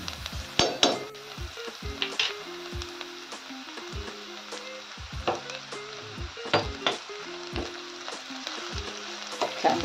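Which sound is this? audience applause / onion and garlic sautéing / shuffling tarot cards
onion and garlic sautéing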